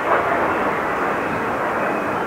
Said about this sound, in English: getting distracted by planes in the sky